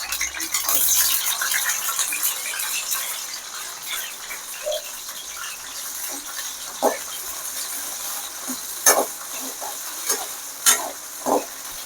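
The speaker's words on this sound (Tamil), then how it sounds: "இந்த சுண்டைக்காய் எல்லாத்தையும் கொஞ்சம் கொஞ்சமாக போட்டு பொறிச்சு எடுக்க போகிறோம்" Turkey berries (sundakkai) fry in hot oil with a continuous crackling sizzle. Spoon-stirring rattles and scrapes come in bursts toward the end, and no one speaks.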